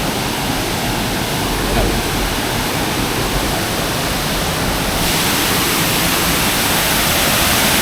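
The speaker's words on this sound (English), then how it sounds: "So we've got like a waterfall here." A waterfall in a forest roars as a dense, steady wash of falling water, loud and close, continuous without a break, with no voice clearly heard over it.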